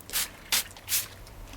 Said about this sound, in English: we're going to first of all start off by spraying down the brim. We're going to put a mist across this brim